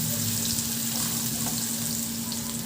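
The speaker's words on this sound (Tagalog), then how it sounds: "Painitin ko na at igisa ko na yung bawang." Garlic sautés in hot oil in a pan, filling the whole clip with a dense, loud, continuous sizzle and no voices.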